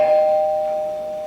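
A doorbell rings once with a clear, sustained electronic tone that slowly decays over about a second, fairly loud and alone.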